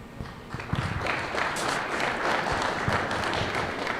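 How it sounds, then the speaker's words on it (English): A school audience breaks into applause, a dense wash of many hands clapping that swells within the first second and holds steady until the end. "I appreciate that round of applause"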